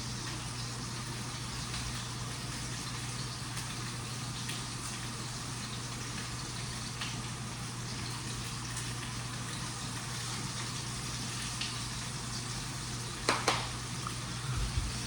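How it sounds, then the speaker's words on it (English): Chicken sizzling in a hot pan over high heat, a dense, constant crackling hiss with a low steady hum beneath and a few sharper pops near the end, close and uninterrupted. "If it sizzles too much, turn down the heat."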